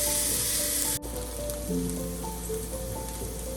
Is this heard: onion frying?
yes